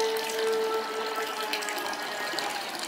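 Water poured slowly out of a pool-water sample container, a steady continuous trickle and splash running throughout at moderate level with no talk.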